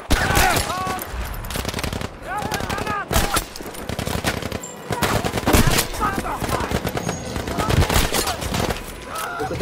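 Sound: gunfire in the video game Battlefield 5

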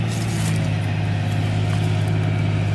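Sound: tractor pulling a stuck dump truck

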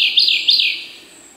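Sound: nightingale song

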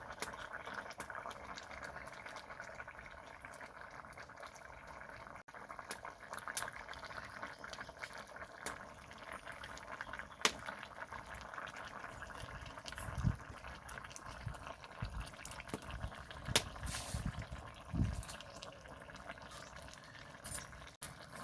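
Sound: fish curry gravy boiling in a pot

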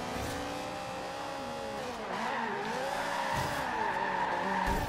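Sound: car drifting and skidding in video game Forza Horizon 2

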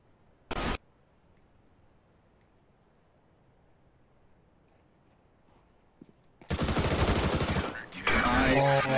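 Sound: gunfire spray in the video game Counter-Strike: Global Offensive

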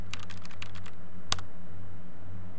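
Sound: typing on a computer keyboard

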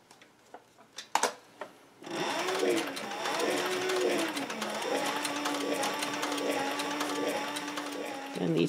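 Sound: sewing machine stitching leather holster pieces

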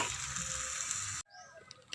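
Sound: pouring a glass of water into cooking dish

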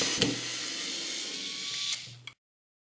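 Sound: small electric screwdriver unscrewing a wood screw

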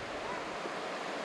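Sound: Shoalhaven River flowing

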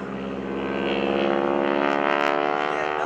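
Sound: propeller airplane with Pratt & Whitney engine doing airshow loop

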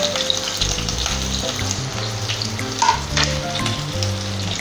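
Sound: vegetables and spices frying in oil in a pan

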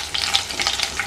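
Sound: tempering spices sizzling in hot oil

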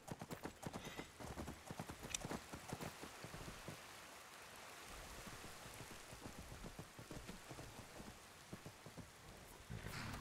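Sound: horse galloping in Skyrim video game

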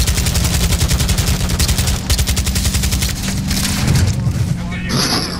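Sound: gunfire in Call of Duty DMZ video game

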